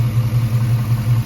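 A 1945 Chevrolet 3100 short-bed street rod with a swapped LS1 5.7-litre V8 idles through its exhaust, a steady deep low rumble with a slight pulsing throb, close and loud, with no voices.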